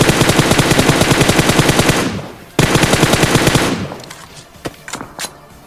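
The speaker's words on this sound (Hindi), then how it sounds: "तभी मुझे बाहर के साइड साउंड सुनाई देते फायरिंग के" Gunfire in a battle royale video game, heard as two rapid automatic bursts of evenly spaced shots, loud and close, followed by a few scattered single shots fading off.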